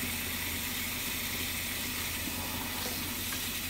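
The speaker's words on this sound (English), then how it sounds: "we're going to run the water around on the inside and make sure we get all of it." Tap water runs steadily into and around the inside of a pan at a sink while bread and butter pickles are prepared, a continuous close hiss with no talking.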